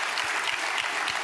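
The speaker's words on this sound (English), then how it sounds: "Please give Dr. Mahmood a round of applause" A packed audience at a global-initiative annual meeting claps in a brief, dense, continuous burst of applause, loud and even throughout with no voices.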